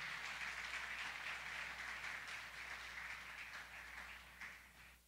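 Church audience applause welcoming a pastor, a faint, dense, sustained clapping that tapers off slightly toward the end.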